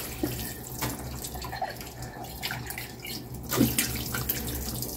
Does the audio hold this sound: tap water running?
yes